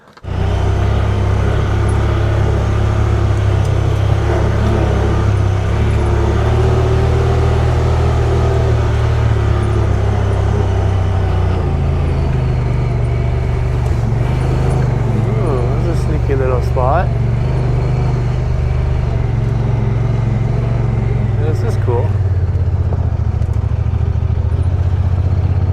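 A Honda Pioneer 1000 utility vehicle drives through the Northern Ontario bush with a loud, steady engine rumble and drone, its pitch shifting partway through, and light rattles over it.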